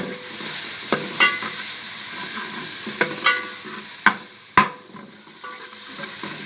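Garlic paste frying in oil in a pan for karhi, steady close sizzle with repeated scraping stirs and sharp spoon knocks against the pot, no talking.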